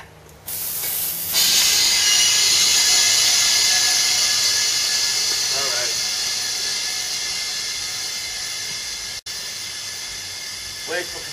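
Sustained loud hiss of compressed air from an air compressor filling a custom air cannon, starting abruptly and holding steady for several seconds before cutting off, with a few faint sounds near the end.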